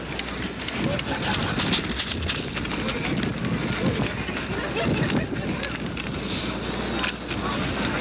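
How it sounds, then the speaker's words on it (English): Strong, gusty wind buffets the microphone outdoors at the Tournament of Roses Parade, a loud broad rush running the whole time beneath commentators talking. "this hurricane force wind we're fighting through here"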